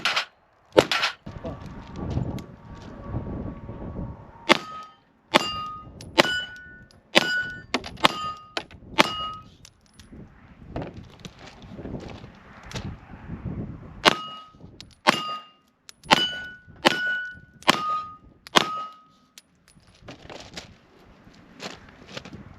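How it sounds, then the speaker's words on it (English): A 9mm 1911 pistol, both Colt and Kimber versions, fires a series of loud sharp shots in uneven strings, each crack followed by a ringing metallic clang from steel targets, with a few quiet gaps between volleys. "let's do a little more shooting and see how they keep going"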